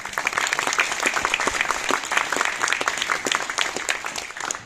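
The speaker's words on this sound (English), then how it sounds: "And we'll give them a round of applause." An audience at an Australia Awards ceremony applauds the award recipients with sustained, even clapping from many hands, heard on its own.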